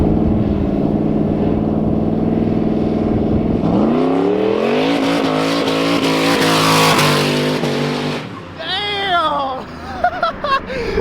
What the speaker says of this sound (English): Gonna do a little flyby for you guys.